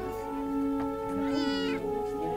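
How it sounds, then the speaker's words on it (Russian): Several cats meow in a cat shelter in Shymkent, the overlapping cries loud and close, with no one speaking. "мяуканьем встречает нас шымкентский приют для кошек «Пушистый ангел»"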